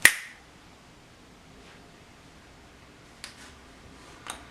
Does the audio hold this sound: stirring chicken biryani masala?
no